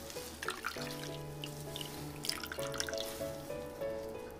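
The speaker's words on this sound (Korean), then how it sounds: "주물러서 꼭 짜면 뽀얀 물이 나와요." Barley malt being kneaded and squeezed by hand in water for pumpkin sikhye, with soft drips and trickles of liquid under a faint background tone, quiet and close.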